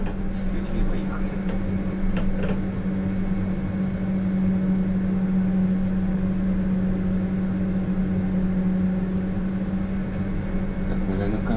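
A UTTZ-6241.01 (MAZ-203T) trolleybus in Cheboksary pulls away, giving a steady, loud traction-motor hum with a strong low tone throughout, alongside constant cabin rumble and faint vehicle noise.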